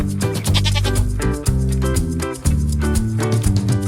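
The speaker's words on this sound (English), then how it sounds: "Goat," A goat bleats several times over continuous music, the calls fairly loud and close, with short wavering cries spread across the clip and no voices.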